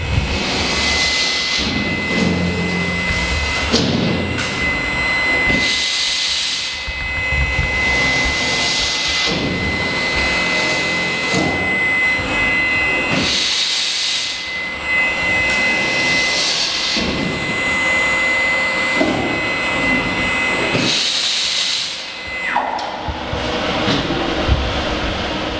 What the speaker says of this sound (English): So this is now action of the milling machine.